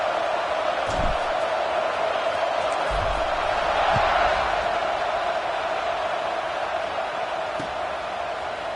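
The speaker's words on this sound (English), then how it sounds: "this crowd is buzzing after that last score" Stadium crowd in a college football video game, a continuous buzzing roar that holds steady and fills the whole stretch, with a few faint thumps underneath.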